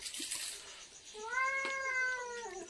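A cat gives one drawn-out, fairly close meow, rising and then falling, over a faint background hiss. No one speaks.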